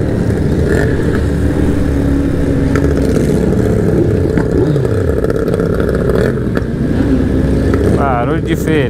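Loud engine rumble from a nearby unusual-sounding motorcycle, revving with rising and falling pitch sweeps over dense traffic noise and rattling.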